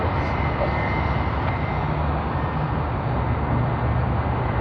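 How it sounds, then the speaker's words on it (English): Jetstar airliner from Melbourne arriving on runway 34 left at Sydney Airport, a steady loud roar of jet engines with broad rumbling noise that holds constant throughout, heard from fairly close. "Melbourne to Sydney service from Jetstar. Just arrived on runway 34 left"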